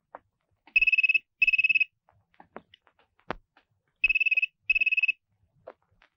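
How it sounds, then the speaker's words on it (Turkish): A telephone rings in four short trilling bursts, paired with gaps between them, clear and close amid faint household clatter and no talk. "Telefon çalıyor."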